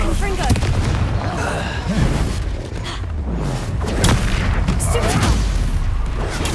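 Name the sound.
Expulso explosion spell, Hogwarts Legacy video game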